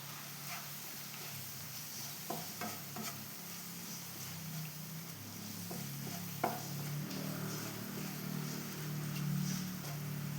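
Coriander powder is stirred in a pan while making Kerala rasam, giving a soft continuous sizzle with occasional scrapes and light utensil taps over several seconds.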